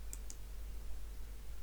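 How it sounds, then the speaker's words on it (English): Two quick, faint computer mouse clicks close together near the start, over a steady low background hum. "So I'm just clicking again on the import demo"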